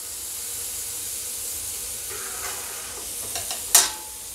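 Potato pieces frying in hot oil for batata chivda, a steady soft sizzle and hiss with a few scraping stirs and a sharp bright splash near the end.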